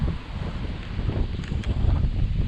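Strong gusting wind in the aftermath of Typhoon Saola buffets the microphone outdoors, a rough, steady rumble with rising gusts, close and loud, without talk.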